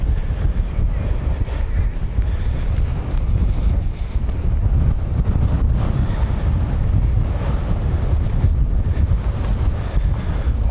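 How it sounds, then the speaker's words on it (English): Strong wind buffets an outdoor microphone on a walk toward the tip, a loud, continuous low rumble with gusty swells and no clear pauses. "I didn't realize that it's this windy today"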